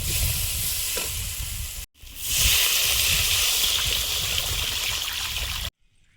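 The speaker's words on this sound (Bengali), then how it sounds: "মশলাটা কষানো হয়েছে, এবার জল দিয়ে দেবো।" Water poured into a cooking pan of fried spices for a fish curry, a loud steady hissing sizzle and rush that breaks off briefly, swells again and keeps going before stopping abruptly.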